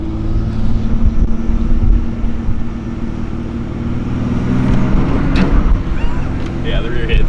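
A Ford Ranger prerunner truck rolls through neighborhood streets over bumps, a steady low engine and road drone with thumps and rattles from the suspension growing louder toward the end.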